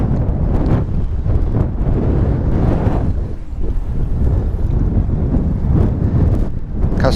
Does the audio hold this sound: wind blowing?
yes